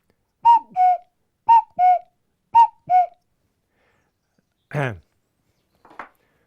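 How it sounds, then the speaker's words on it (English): A wooden whistle sounds a two-note cuckoo call three times in a steady rhythm, clear and close, followed by a couple of brief knocks. "you've got wooden whistles, and this one's a cuckoo call"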